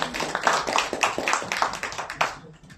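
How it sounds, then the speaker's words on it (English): Audience at a children's graduation ceremony clapping in a ragged, moderately close burst of applause that swells and then thins out over a few seconds. "Big round of applause."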